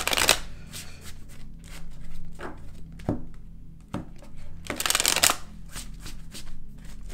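Tarot cards being shuffled by hand, a series of close, crisp riffling bursts and soft slaps repeated in uneven rhythm, with no talking.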